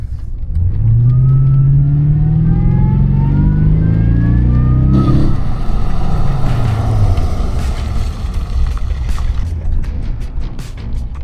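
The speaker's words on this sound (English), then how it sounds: "Can you hear the supercharger out there? Yeah, oh yeah, you hear it. You hear this wind up." A supercharged motorhome engine revs loud and close, a rising whine winding up over the exhaust roar for several seconds before the throttle lifts and the tone drops into a rougher, fluttering idle.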